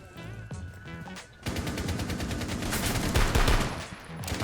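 Rapid automatic gunfire in the Rainbow Six Siege video game, a dense, loud burst of shots that begins after a short quieter stretch and keeps going to the end.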